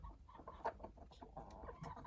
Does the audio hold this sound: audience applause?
no